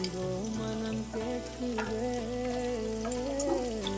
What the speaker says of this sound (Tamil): இதை ஒரு 30 செகண்ட் வதக்கி விடலாம்